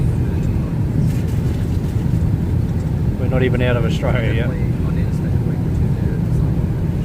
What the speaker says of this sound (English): And there's the plane.